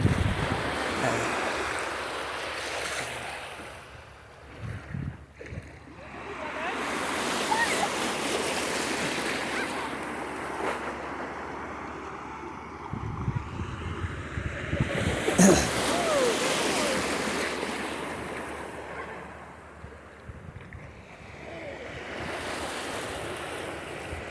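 Ocean waves roll in and wash out in slow surges on Bimaloy Beach, Pangasinan, while wind buffets the microphone, with faint voices in the background.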